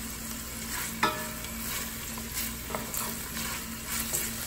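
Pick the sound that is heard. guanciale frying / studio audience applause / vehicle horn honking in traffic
guanciale frying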